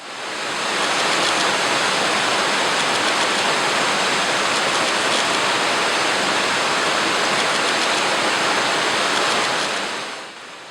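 The Pistyll Rhaeadr waterfall and the river below it roar as a broad, continuous rushing of falling and flowing water, loud and close, swelling in and fading out at the end.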